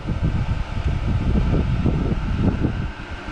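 A steady whooshing fan of a Dyson Pure Humidify+Cool air purifier blowing air, close and continuous with a soft low rumble, fading slightly toward the end.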